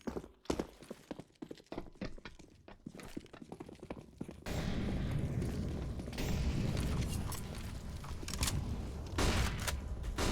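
An HE grenade detonates in a Counter-Strike match on the Overpass map, a sudden heavy blast midway that leaves a dense, sustained rumble, preceded by sparse clicks and scattered gunfire.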